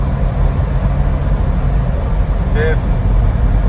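A 2006 Jeep Wrangler with a soft top cruises in fourth gear: a loud, steady engine drone and road rumble from inside the cabin, with a brief whistling tone near the end.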